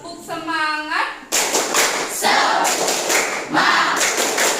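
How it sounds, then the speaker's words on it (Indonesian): A school class performs a rhythmic spirit clap led by a teacher, with a short chanted vocal phrase before a burst of many hands clapping in quick bursts, accompanied by children's voices. "Sekarang kita tepuk semangat dulu sebelum memulai pembelajaran"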